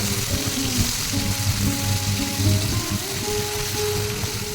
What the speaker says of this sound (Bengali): পেঁয়াজ কুচিগুলো আমি হালকা ব্রাউন করে ভেজে নিচ্ছি